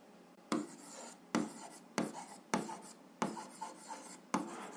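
A pen or chalk writes out an algebra equation in short, quiet bursts of scratching strokes, about seven separate scribbles with brief pauses between them, each starting with a sharp tap.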